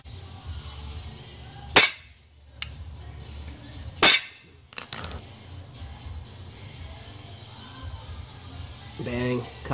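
Metal coupler snapped onto the drive shaft of a Vaterra Ascender RC crawler, giving two sharp, loud metallic clicks a couple of seconds apart, followed by softer fiddling clinks over low background hum.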